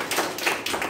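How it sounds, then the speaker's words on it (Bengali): Audience applause at a health workshop, a brief burst of clapping from a group of people with a few distinct hand claps standing out, close and moderately loud. "তাদের জন্য একটা জোরে করতালি হল"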